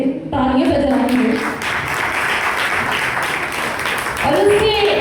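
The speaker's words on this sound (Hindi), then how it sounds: "पहले तो हम जिंदा कलाम के लिए तालियां बजाएंगे" Applause from a church congregation at a Thursday healing meeting, a steady dense wash of clapping filling the room, with voices speaking over it at the start and again near the end.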